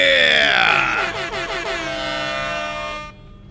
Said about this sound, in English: that stupid air horn sound effect